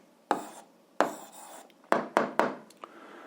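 Pen strokes on paper while writing down an answer to an algebra exercise, several short scratchy bursts in quick uneven succession, close and quiet with pauses between.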